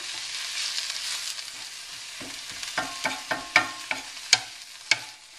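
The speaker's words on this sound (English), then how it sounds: "I'm making sure that I stir it around so all those little garlic pieces are hitting the pan" Chopped kale and garlic fry in a pan under a soft, steady sizzle, while a spoon stirs and knocks against the pan in a run of sharp, close taps.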